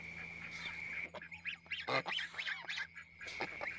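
A white goose honks in a quick series of nasal cries, close and fairly loud, over a steady outdoor hum.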